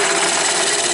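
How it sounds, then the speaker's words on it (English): A 17/64 drill bit bores into the bevel gear box of a Simplicity 7100 garden tractor, a steady loud grinding whir of the drill held close without a break. "I'm going to try and drill that out with a 5/16"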